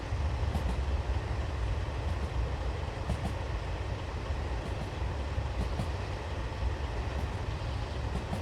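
Continuous heavy rumble of a train passing close by on the Hidaka Main Line in Japan, loud and steady throughout with wheel noise and faint clicks from the rails.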